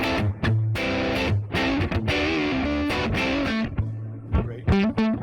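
Overdriven electric guitar notes and chords ring out through a Spark amp's Deluxe Reverb model with a warm, reverberant tone, played in short phrases with pauses between them.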